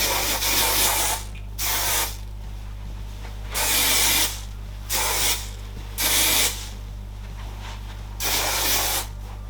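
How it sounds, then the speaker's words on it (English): Hairspray sprayed onto hair while styling wavy curls, heard as five separate hissing aerosol bursts of about a second each, fairly loud and close, with a steady low hum underneath and no talking. "And then I'm gonna do the same with hairspray, but I'm not really focusing it at my roots"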